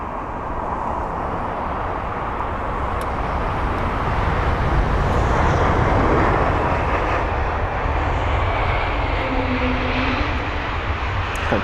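A brand-new Air Baltic airliner, delivered April 2023, roars in loudly on landing at London Heathrow, a broad steady engine rumble that swells toward the middle and holds before easing slightly.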